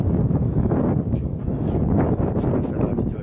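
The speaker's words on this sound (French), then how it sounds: "J'espère que vous m'entendez bien parce qu'il y a énormément de vent." Strong wind buffeting the microphone on a high mountain summit in Europe, a loud continuous rumbling roar with gusty swells and no talk.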